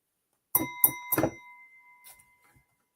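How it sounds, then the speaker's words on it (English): A bell rung in a pub, three quick bright strikes close together with clear ringing tones that fade over a second or two, followed by faint background clatter. "I think that's a perfectly reasonable place to ring the bell."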